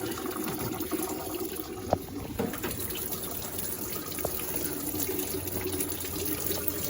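Engine coolant gushing out of a GMC Canyon during water pump removal, a continuous close splashing and pouring of liquid into a pan with no speech.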